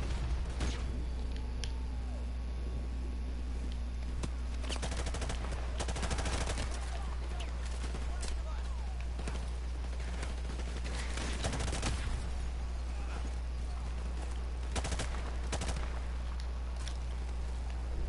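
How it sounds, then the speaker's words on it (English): Scattered bursts of suppressing gunfire ring out in a PS4 video game firefight, rattling repeatedly over a steady low rumble with voices mixed in. "Keep them pinned down! Roger that! Suppressing fire!"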